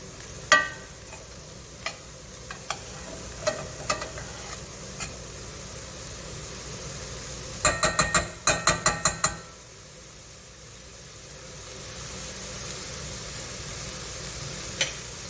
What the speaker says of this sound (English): because I got a nice sizzle on my pan